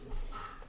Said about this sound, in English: That's my dog, Ruby.